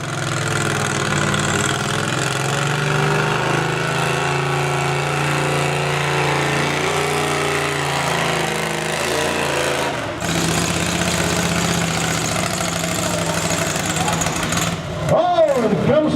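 A lawn tractor engine runs loud and steady with a throaty drone while pulling down a tractor pull track, then winds down near the end, with an announcer talking over the continuous engine noise.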